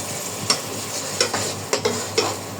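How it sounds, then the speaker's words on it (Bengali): Spices sauté in oil in a pan for leftover-rice khichuri, a steady soft sizzle broken by four or five sharp spoon scrapes and taps, nearby, with no voices. "এখন আমি সব মশলাগুলো একই সঙ্গে কষিয়ে নেব"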